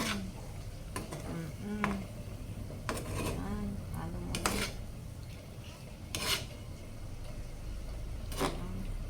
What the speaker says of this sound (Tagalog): Ayan, halo mo lang.